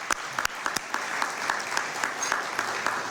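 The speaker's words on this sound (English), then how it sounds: "I'm going to lead a round of applause for them." Audience applause at a Senate briefing on Iran, a steady wash of many hands clapping with a few sharper close claps standing out, moderately loud throughout.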